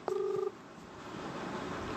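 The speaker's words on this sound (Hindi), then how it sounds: "फिर लगा रहा अली खान को," A brief electronic dial beep on a mobile phone call sounds at the start, a steady two-tone pulse lasting half a second, followed by a low hissy line noise as the call connects without an answer.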